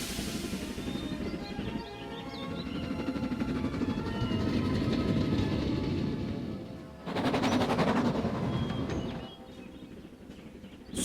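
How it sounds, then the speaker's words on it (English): Henry, the cartoon steam locomotive from Thomas & Friends, pulls a mainline train, chuffing in a loud, continuous rhythmic rumble that surges, briefly drops, then picks up again. "the Fat Director had allowed Henry to pull secondary mainline trains again."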